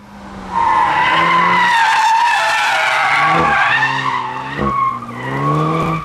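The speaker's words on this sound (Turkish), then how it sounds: "Ama dışarıdan hiç fena bir sesi yok arabanın." A car with a DSG gearbox drives past outside, its engine note rising and falling in close, loud sweeps with a brief gear-change dip, and no talk over it.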